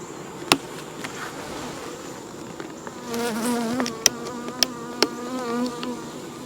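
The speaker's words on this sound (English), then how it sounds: "It'll stop any other bees from getting in there and robbing, or trying to." Honeybees buzz around an open backyard hive during an inspection, a steady close drone that swells in pitch midway, broken by several sharp knocks and clicks from the hive equipment.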